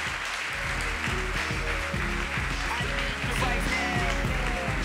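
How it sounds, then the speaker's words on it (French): Indoors, an audience at a coding bootcamp demo day in Paris claps for the students. The applause is dense and sustained, with rhythmic clapping and some cheering, loud throughout. "Donc on va les applaudir une dernière fois tous ensemble."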